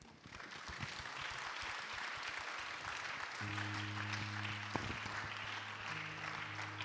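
Church congregation applauding and acclaiming the Lord, steady crowd clapping and cheering throughout, joined partway by a sustained organ or keyboard chord.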